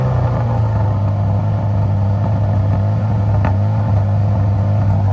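A 1000-horsepower project car's engine runs steadily with a strong low drone, loud and close, on a freezing-cold day while the car is unloaded; no one speaks.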